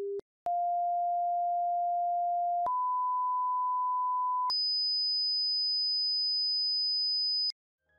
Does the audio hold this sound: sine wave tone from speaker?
yes